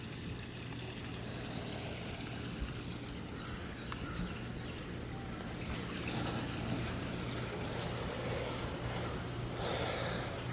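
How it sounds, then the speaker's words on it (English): A freshly running raised koi pond with a pump, fountain and cascading water course makes steady trickling and splashing water nearby, with a constant low pump hum underneath and no talking. "So we did get the pump running, the pond running, the fountain, and the top."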